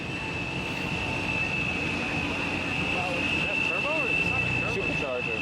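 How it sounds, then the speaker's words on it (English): Supercharged Mustang engine running at a car show, a loud, steady mechanical drone with a constant high whine, with people talking over it nearby. "Ooh, a supercharger."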